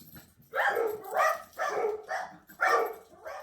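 Several dogs bark in a house during a polymer clay crafting session, about five loud barks in a steady rhythm, close to the microphone, with no talking over them.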